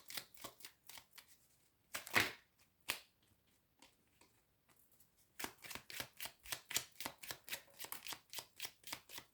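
Oracle card deck being shuffled by hand, bursts of crisp riffling flutters close up, a few scattered taps in a quiet middle stretch, then a long even run of rapid papery flicks.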